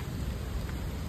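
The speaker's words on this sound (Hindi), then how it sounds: "देखना इतनी बारिश हो रही है बंदे, बारिश हो रही है भाई।" Heavy rain falls in a continuous, broadband hiss, steady and fairly close for a brief moment, with no other distinct sounds.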